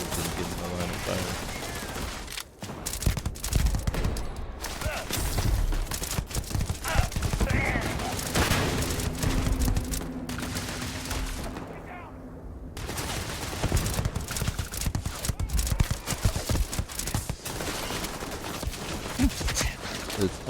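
Gunfire in the video game Starfield rattles almost continuously in dense volleys, close and loud, with a brief lull near the middle before the shooting resumes.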